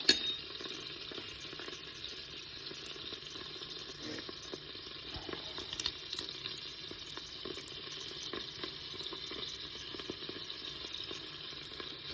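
A small onion and two cloves of garlic sizzle steadily in melted butter inside a Cookeo multicooker. The frying hiss is soft and even, broken by occasional faint stirring clicks, with no voices.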